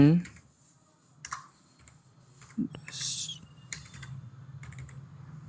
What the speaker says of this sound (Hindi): फिर यहाँ पर नाम टाइप करता हूँ।